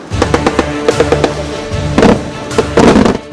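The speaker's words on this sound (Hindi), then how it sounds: "अब ताइवान के तोप गोले उगल रहे हैं।" Taiwanese artillery cannons firing shells at sea, a rapid series of sharp, loud booming reports in quick bursts, close and punchy, with no voices.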